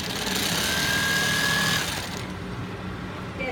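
An industrial sewing machine running at a held-back motor speed, giving a loud, continuous mechanical whir and rattle with a thin whine that fades and shifts near the end.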